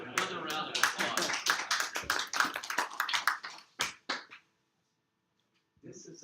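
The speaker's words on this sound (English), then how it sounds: "Another round of applause." An audience at a robotics club talk applauds, a dense burst of clapping lasting about four seconds before fading into silence, with faint sound returning at the end.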